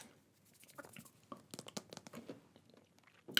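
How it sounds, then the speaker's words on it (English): Crisp crunching and chewing of mango-flavored crystal gummy candy, close and intimate, with irregular bursts of sharp bites and wet chews that grow busier after the first second, with no talking. "I think my favorite part's the crunch."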